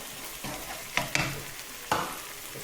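Spoon stirring lemon juice into a simmering tomato sauce for mussels, with soft scraping strokes and a few sharper clinks against the pan over a low background sizzle.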